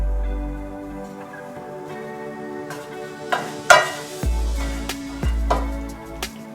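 Vegetables for a bell pepper ring omelette stirred with spices, chili powder and ginger garlic paste in a pan: a low sizzle runs under scraping, clinking spatula strokes and a few sharper knocks against the pan, with background music throughout.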